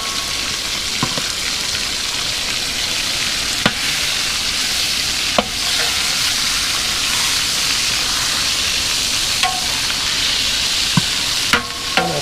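Beef eye of round fries in a pan in a large catering kitchen for a wedding, giving a loud, steady sizzling hiss broken by a few sharp crackles and pops.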